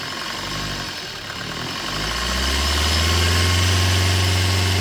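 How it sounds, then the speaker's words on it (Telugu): A 2018 Maruti Suzuki Brezza LDi diesel engine runs close by, its steady idle clatter rising as the throttle is opened into a sustained loud, deep rev. "ఇప్పుడైతే మీకు ఒకసారి వెహికల్ స్టార్ట్ చేసి చూపిస్తాను"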